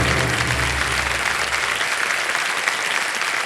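Studio audience applause on a Hindi television quiz show, a dense steady clapping that fills the whole clip, with a low rumble under the first half that drops away.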